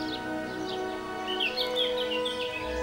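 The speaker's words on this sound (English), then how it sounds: "Just hear the birds singing, nothing else." Birds singing outdoors in Italy, several faint chirps and warbling calls over a steady background hum, distant and gentle, with no talking.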